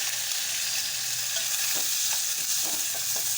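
Steady hiss of onions and tomatoes frying in oil in a pan, with light scraping stirs every half second or so, close and continuous.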